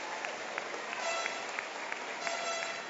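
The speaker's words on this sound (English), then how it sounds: "how about a round of applause for your parents and your families that have supported you" Applause from the audience at an eighth grade promotion ceremony in a middle school hall, honouring parents and families. The clapping is steady and crowd-wide and lasts about three seconds, with a faint murmur of voices beneath it.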